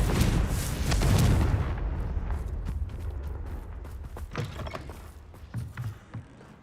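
The Confringo fire spell cast in Hogwarts Legacy gives a loud, deep booming blast that rumbles and decays over several seconds, followed by scattered crackles and impacts.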